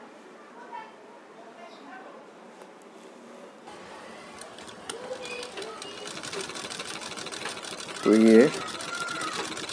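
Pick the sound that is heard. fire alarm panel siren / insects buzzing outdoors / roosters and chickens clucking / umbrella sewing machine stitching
umbrella sewing machine stitching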